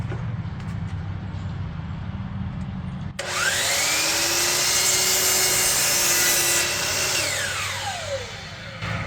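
Power saw cutting crown molding for kitchen cabinets, a motor hum that jumps into a loud, sustained whining cut through wood, then winds down, close up with no talk.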